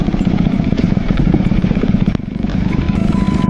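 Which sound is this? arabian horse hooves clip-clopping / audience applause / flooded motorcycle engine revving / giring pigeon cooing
flooded motorcycle engine revving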